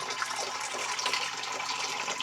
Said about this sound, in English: This time, just like the bottle says, you're going to pour it back in.